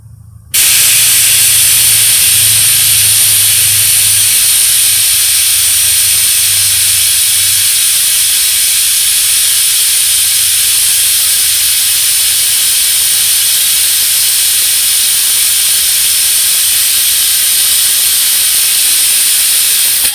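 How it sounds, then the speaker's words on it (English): Steady, loud hiss of a vacuum coolant bleeder drawing air through the cooling system of a Cadillac ATS-V, starting abruptly and running continuously with a faint low hum beneath. "Hopefully the air will get sucked through the system, come through this pipe with some radiator fluid, and that should bleed the system."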